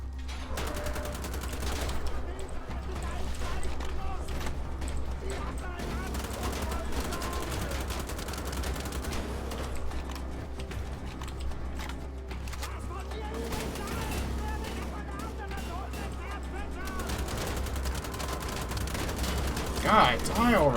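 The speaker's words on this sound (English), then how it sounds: "I'm shooting you in the chest so many times" Rapid, sustained gunfire in Wolfenstein: The Old Blood as a player pumps shots into an enemy's chest, dense bursts running steadily for the whole stretch with a deep constant hum and game sounds beneath.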